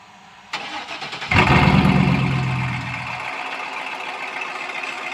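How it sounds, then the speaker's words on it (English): A 2007 Chevy pickup with the muffler removed and straight-piped exhaust cranks and catches, swelling into a loud, rumbling start that settles into a steady, raspy idle close by, with no voices. "Dad's going to get in there and crank it now. See what it sounds like straight pipe."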